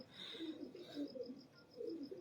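A single pigeon coos softly in two or three short, rolling phrases against a faint high background hiss.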